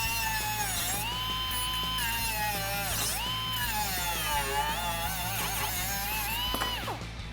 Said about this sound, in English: We're gonna use a cutting wheel and get this thing off.